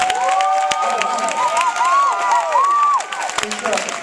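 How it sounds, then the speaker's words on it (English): An audience at a Saturday event in Raleigh, North Carolina cheers and applauds for guests, loud close whoops and sustained shouting over clapping that eases slightly near the end. "come on, give some round of applause"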